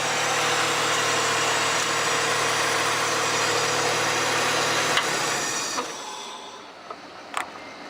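Mitsubishi Galant VR-4 engine idling with a faulty alternator, running solely off the battery: a steady, moderately loud idle hum that cuts out near the end, followed by a few faint clicks.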